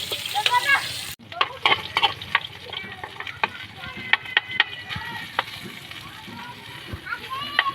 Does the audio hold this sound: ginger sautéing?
yes